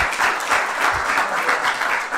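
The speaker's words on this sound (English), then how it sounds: "Let's do some applause." Applause at a council meeting for scholarship recipients, steady moderate clapping from a room full of people that carries on evenly throughout.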